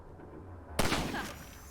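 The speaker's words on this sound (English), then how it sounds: "Let me shoot out the latch. I might be a little rusty with this rifle." A single loud rifle shot fired in Half-Life 2 to blast open a ladder latch, a sudden sharp crack followed by a short echoing tail after near silence.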